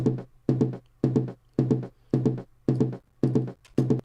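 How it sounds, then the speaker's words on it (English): A drum struck eight times at a steady beat, each hit with a strong low thump and a bright attack that decays quickly, played alone. "if you have a drum that sounds like this"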